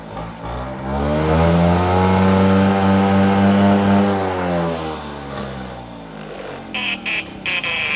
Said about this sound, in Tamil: இதுக்கு ஸ்டார்ட் பண்ணுவோம் இப்போ வண்டியை. வண்டியோட சவுண்டு பார்த்தீங்கன்னா நல்லா